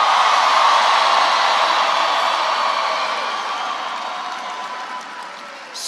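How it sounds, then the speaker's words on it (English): Steady, loud applause from a large rally crowd greets President Bill Clinton at an outdoor campaign event in Bristow, Virginia, a dense wash of clapping that slowly fades over several seconds. "give President Bill Clinton a big round of applause"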